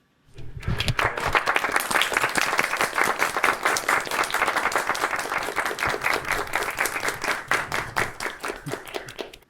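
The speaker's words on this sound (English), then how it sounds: "Applaud for him." A seated audience applauds enthusiastically in praise of a governor, dense hand clapping rising quickly and staying loud and steady for several seconds before tapering at the end.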